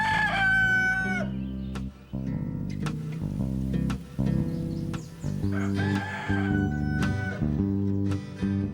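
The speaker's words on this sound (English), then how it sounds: "a rooster's call brings a farm to life." A rooster crows repeatedly on a rural Virginia farm, loud and close, with long drawn-out calls and clucking from other fowl between them.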